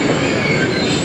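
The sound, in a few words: train coming to a stop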